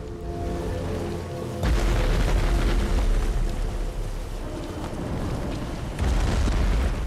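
Ghost enemies shooting at the player in Elden Ring, a dense rumbling barrage of booming blasts that swells loudly near 1.7 and 6 seconds over continuous crackling impacts.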